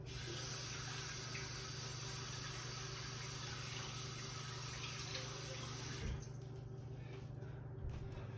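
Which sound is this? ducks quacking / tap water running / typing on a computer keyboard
tap water running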